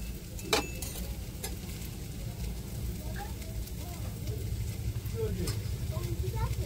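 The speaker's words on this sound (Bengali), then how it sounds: "এবার সব মাছ এভাবে দিয়ে আমি ভেজে নেব" Tengra fish fry in hot oil in a wok, giving a steady soft sizzle with a few sharp spatter clicks. It stays fairly quiet and close and builds slightly toward the end.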